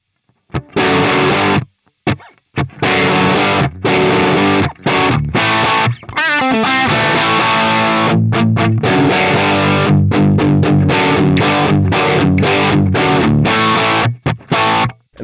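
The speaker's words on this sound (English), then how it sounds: "that's what I really identify as a Plexi sort of sound" Heavily distorted electric guitar through a Plexi-style amp tone on a Line 6 Helix, playing loud, crunchy riffs with short gaps and chord stabs, a bright, aggressive overdriven tone, with no voices.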